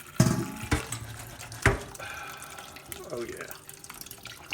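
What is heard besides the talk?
cold water running from a tap into a pot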